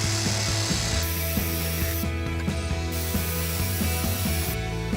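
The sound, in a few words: jigsaw cutting a recycled drinks crate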